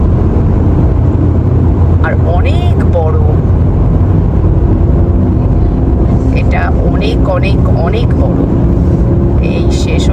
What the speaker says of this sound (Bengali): বিরাট আওয়াজ গাড়ির আওয়াজগুলো পুরো ইকো হচ্ছে